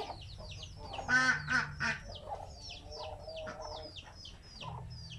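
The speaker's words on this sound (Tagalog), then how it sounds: "Yan yung mga manok namin dito." Chickens cluck and squawk in a steady string of short calls, with duck quacks mixed in, moderately close.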